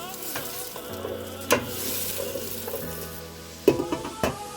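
Onions with salt stirred in a pot on the stove, a gentle low sizzle with intermittent spoon knocks and scrapes against the pot, a couple of sharper clinks near the end.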